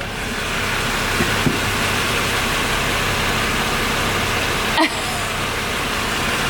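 A Jeep engine idles after an oil and spark plug change, a steady low rumble with a couple of faint knocks and one brief clatter partway through.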